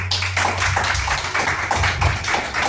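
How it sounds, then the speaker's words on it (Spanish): Church congregation at an evening healing and miracles service applauds loudly, a dense, continuous wash of many hands clapping together over a low steady hum. "Denle un fuerte aplauso a Dios"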